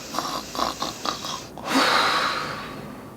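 A storyteller's voice imitates snoring: a few short rhythmic snorts followed by a long, rasping drawn-out snore, close and fairly loud.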